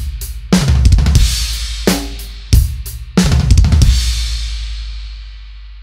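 Linear 32nd-note drum fill on a drum kit: a few quick bursts of rapid hits across the drums and cymbals, each ending in a ringing crash that decays, close and loud.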